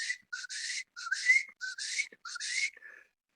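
A man whistles in imitation of a guinea fowl call, giving four close, clear phrases, each a short note followed by a rising warble, separated by brief pauses against silence.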